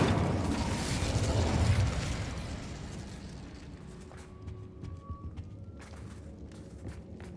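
An Incendio fire spell cast in the Hogwarts Legacy video game erupts in a loud whooshing roar that fades over a few seconds, leaving faint crackles, clicks and a soft tonal ring.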